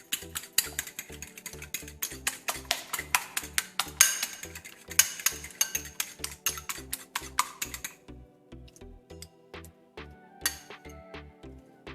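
An egg being beaten in a bowl with a fork: rapid, regular clinks against the bowl that continue for about eight seconds, then slow into sparser taps, close and fairly quiet.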